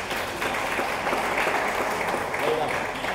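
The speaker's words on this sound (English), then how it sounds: "Round of applause." An audience at a Strathmore University speaking event breaks into a steady round of applause, a continuous, even wash of clapping from many hands.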